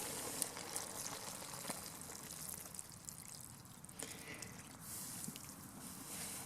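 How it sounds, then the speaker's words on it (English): Gravy mix thinned with water is poured into a campfire stew, giving a soft, low-level trickle and bubbling against faint outdoor background noise with no talking. "I'm going to pour this in there"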